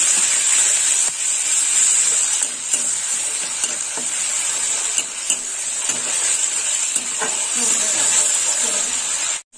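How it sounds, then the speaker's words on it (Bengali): Onion paste frying in oil in a pan, a continuous close sizzle broken by stirring scrapes, loud and steady until it stops abruptly at the end. "পেঁয়াজটা একটু লাল লাল ভাজা হবে।"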